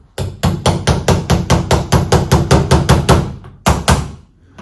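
Repeated hammer blows strike hard and close in a fast, steady rhythm, about fifteen hits, then a short pause and two final strikes.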